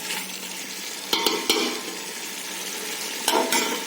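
Spices, dalcha masala and chili powder, being stirred into a pan with steady frying sizzle, broken by a few sharp scrapes and knocks of the spoon against the pan; no voices.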